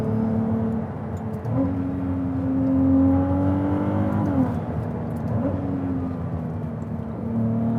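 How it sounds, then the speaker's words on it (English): Hybrid V6 of a Ferrari 296 GTB supercar pulling steadily along a country road, a smooth droning engine note rising in pitch through the gears, dipping at shifts, with constant tyre and road noise beneath. "Engine sounds great."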